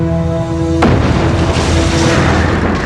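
A ship collision: a sudden loud bang cuts through a low droning hum, followed by a sustained heavy rumbling roar that fills the rest of the moment.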